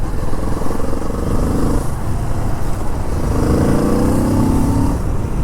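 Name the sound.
Kawasaki Z650 RS motorcycle engine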